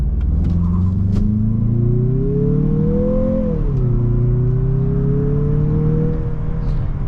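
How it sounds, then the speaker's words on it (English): A 2022 Mazda CX-50 SUV in sport mode launches hard from a brake boost, its engine droning and rising in pitch, dipping briefly at an upshift, then climbing again, loud and close from inside the cabin. "let's go ahead and do a quick acceleration"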